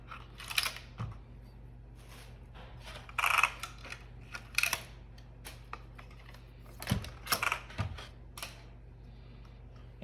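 Sharp plastic snips and clicks come in scattered clusters as zip ties are cut from an Arrma Felony RC car's packaging, close up and quiet, with rustling of packaging between them.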